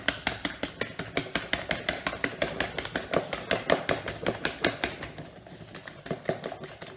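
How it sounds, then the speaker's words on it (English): A handheld whisk beats double cream in a bowl for scones, a steady fast run of close, sharp metallic taps and clicks that keeps a regular rhythm throughout, with no talking. "Just whisk the double cream."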